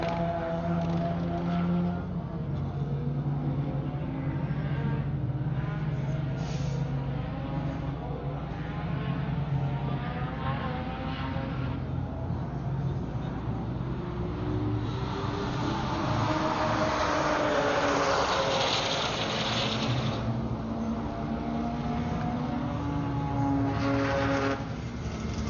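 A Honda Civic EG race car on a cool-down lap at Buttonwillow during a GTA season finals session drones steadily, its engine tone sliding up and down in pitch as it runs on and passes, with no talking.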